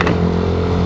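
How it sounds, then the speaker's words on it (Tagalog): A loud, steady motorcycle engine drone rumbles close up, heard from a helmet-mounted mic, a motor running continuously with a low throaty hum and no speech. "Rinig pa rin ba yung makina ni Yumi?"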